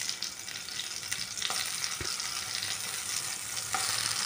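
Tomato halves fry in hot oil for a Bangalore-style tomato chutney, giving a steady, close hiss and crackle with a few soft stirring knocks.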